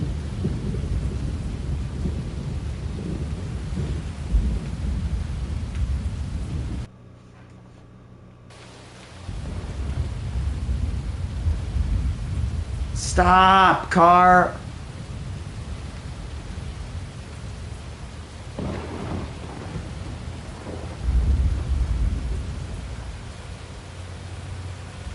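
Rain and thunder in a driving video game: a constant low rumble of heavy rain and thunder, briefly cut to near silence, then broken midway by a short burst of warbling, whining engine-like tones. A few words are spoken.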